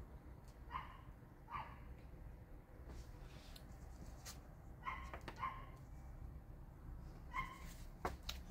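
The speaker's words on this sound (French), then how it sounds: "Voilà, le chien maintenant." A dog gives several short barks and yips spaced across the stretch, with a faint whimper between them, moderately close over a steady low background hum.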